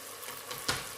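Green pepper hitting a pan of melted frying spices, a soft steady sizzle with a brief louder hiss as it goes in, faint and close.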